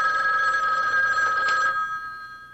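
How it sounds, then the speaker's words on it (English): A telephone rings indoors in a home, one steady bell-like ring lasting under two seconds before fading, moderately loud with no one speaking. "I'll go answer the phone in the other room."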